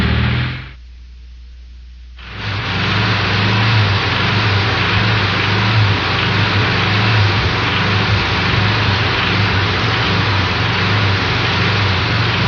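A Volkswagen engine with a rod knock runs loudly and continuously after a brief dip near the start, its low rumble carrying a repetitive knocking beat with no talk over it.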